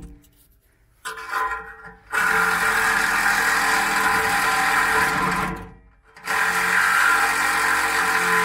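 Power tool cuts off the exhaust on a high-mileage 6.0 Powerstroke truck in two loud, close, continuous whining grinding runs separated by short pauses.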